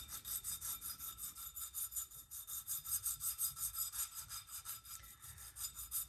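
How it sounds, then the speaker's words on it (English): Steady back-and-forth sanding strokes smooth the reed of an antique jaw harp, a quiet, close, rhythmic scraping rub repeating evenly throughout. "I'm going to sand this smooth as well."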